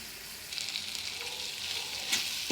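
Prawns fry in a covered pan with their chilli and salt masala, giving a steady, moderately loud sizzle that holds its level throughout with no voices.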